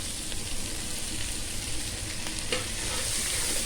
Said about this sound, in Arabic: هم نخليه يحمس